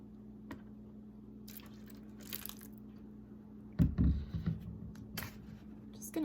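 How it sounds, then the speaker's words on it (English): Water poured from a watering can onto onion seed trays indoors gives soft drips and a few short splashing bursts, with quiet gaps between them. "Just gonna add a little bit more water to some of them."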